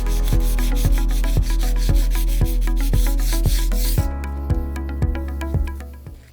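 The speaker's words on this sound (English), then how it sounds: "Doesn't take much to sand that off." Rhythmic back-and-forth sanding strokes rasp Bondo filler off a countertop, close and steady, about two strokes per second, easing off near the end.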